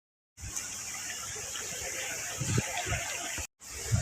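River water rushing at the top of Langit-Langit Falls: a steady, dense roar close to the microphone, broken by a short gap near the end, with a few low thumps underneath.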